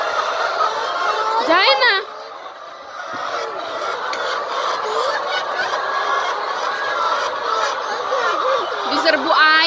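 Chickens on a chicken farm in Bangladesh cluck and squawk close by, with several sharp rising calls standing out over a busy flock, while a person speaks briefly.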